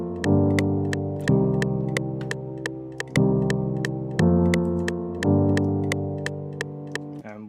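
A flipped sample melody for a liquid drum and bass track made in FL Studio: sustained chord tones shifting every second or so, topped by crisp ticking hits in a steady rhythm, close and clean.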